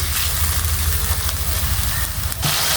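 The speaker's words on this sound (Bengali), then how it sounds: "পেঁয়াজ বাটা দিয়ে আমি ভালোভাবে তেলে ফ্রাই করে নিব" Onion paste frying in oil for a katla fish kalia gives off a steady, loud, close sizzle that runs unbroken with no voices.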